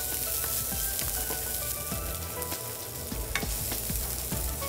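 Shallots fry in a pan, a loud, steady, close sizzle with crackling pops running throughout and no talk over it.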